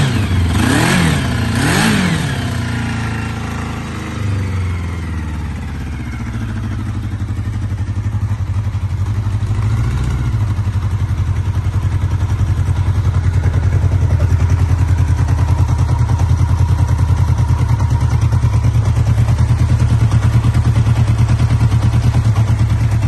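A 1981 Kawasaki CSR 650 motorcycle engine runs up close, opening with a couple of quick throttle blips, then settling into a loud, steady idle that rumbles on.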